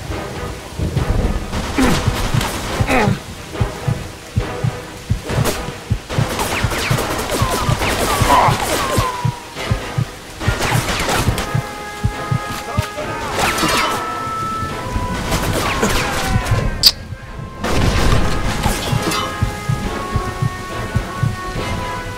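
Rapid gunfire bursts in the Mafia II video game, dense overlapping shots and cracks in a running firefight, loud and continuous with no pauses.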